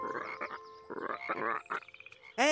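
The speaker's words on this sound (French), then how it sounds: "effrayés par les coassements des grenouilles" Frogs croak in a French animated cartoon, giving a series of loud, close, buzzy croaks in short bursts with brief pauses, ending on a sharp rising call.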